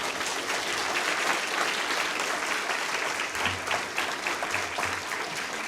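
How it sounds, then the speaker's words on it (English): Steady audience applause fills a student leadership summit hall, dense clapping throughout with a faint low murmur underneath. "can we once again give Danielle a round of applause?"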